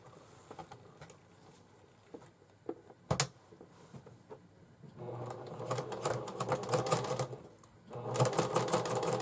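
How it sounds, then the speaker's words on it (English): A sewing machine stitches around all four sides of a small fabric label on a bag, starting with scattered clicks and short bursts, then running in two longer rapid whirring stretches, close and fairly loud. "I'm going to sew around all 4 sides of the little label and get it sewn down."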